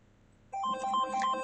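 A phone ringtone starts abruptly halfway through, a clear, loud melodic electronic tune of repeating notes after a quiet moment.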